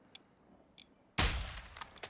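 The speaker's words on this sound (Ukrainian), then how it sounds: "Десь стріляються." In a Call of Duty Warzone DMZ game, a single sharp blast of distant gunfire breaks a quiet background, followed by a few fainter pops and a trailing echo.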